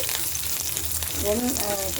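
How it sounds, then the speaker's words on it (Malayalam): Mustard seeds spluttering and popping in hot oil for a sweet potato and green chilli stir-fry, a dense steady sizzle with scattered crackles throughout, close and fairly loud, with a brief faint voice near the end. "കടുക് ഇട്ട് പൊട്ടിയതിന് ശേഷം മുളകിട്ട്"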